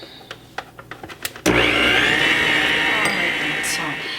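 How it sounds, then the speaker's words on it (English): An electric blender cutting lard into flour for an apple pastry braid: a few clicks and taps, then a loud steady whirring motor that starts abruptly and runs on with a slight fade. "And just put down the blender and then turn it on."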